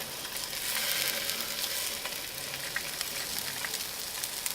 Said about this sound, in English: I'm going to add my beautiful meatballs right on here. Put them down a little bit. Let these cook through.